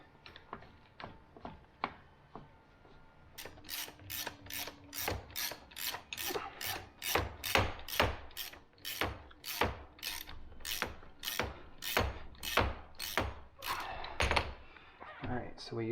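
A ratchet is worked in a steady run of sharp clicks while tightening strut bolts on an F56 during a spring and strut installation. Quieter scattered clicks come first, then a rapid, even series close to the microphone.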